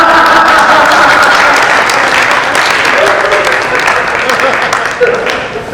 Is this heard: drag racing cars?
no